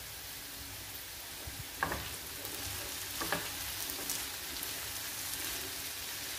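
Curry with curry leaves being stirred in a pan, a soft, low sizzle with a few quiet scraping strokes of the spoon.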